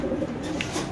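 Mundian pigeons, including a black female, coo in a pigeon-selling setting. A brief, soft, low coo comes faintly through background noise.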